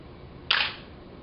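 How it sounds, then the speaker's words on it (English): A single crisp shutter release from a Nikon D700 camera firing a test shot, one short close click over a quiet room. "let's see if we could take a few test shots without a compact flash card"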